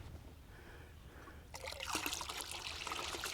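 Water pours steadily into a container for mixing Merit insecticide, a broad rushing splash that starts abruptly partway through after a quieter low hum.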